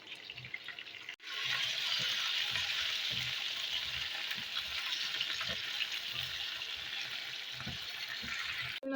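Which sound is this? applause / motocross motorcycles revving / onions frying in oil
onions frying in oil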